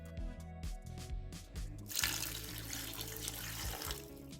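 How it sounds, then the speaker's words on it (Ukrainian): Water pours into a cooking pot of cut potatoes, starting with faint clinks and then a steady, gushing stream like a running tap for a couple of seconds. "Додаю воду і нехай готується майже до готовності"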